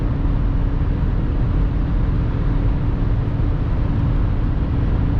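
A BMW X5 E53 4.4i V8 cruises at high speed on the highway, and the cabin is filled with a steady, loud rumble of engine, tire and wind noise that holds level throughout.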